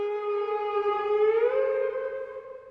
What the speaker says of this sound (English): turning up the reflect knob on the Afterneath so that it would start to kind of self-oscillate